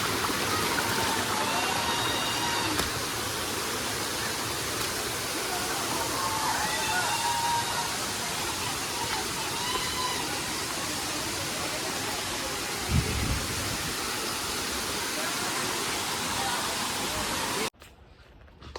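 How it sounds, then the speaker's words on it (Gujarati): Water pouring down at Pavagadh makes a continuous broad rushing stream sound, loud and near, with faint voices under it, a brief thump near the end, and a sudden cutoff just before the close. "અહીંયાથી પાણી પડી રહ્યું છે ત્યાં આગળ નીચે જઈ રહી છે"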